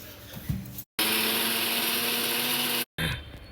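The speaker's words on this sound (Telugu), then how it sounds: "ఎండుమిరపకాయలు, ఉప్పు, జీలకర్ర వేసేసి రుబ్బాలి" A kitchen mixer grinding rice, dry red chilies, salt and cumin, a loud steady whirring burst of about two seconds between short pauses.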